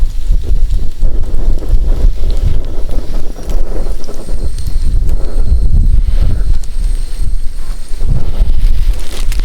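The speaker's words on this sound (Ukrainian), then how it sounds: "Вітер трохи задуває." Strong, steady wind buffets the microphone throughout at a winter hiking camp, a loud continuous rumbling roar with gusty swells and no voices.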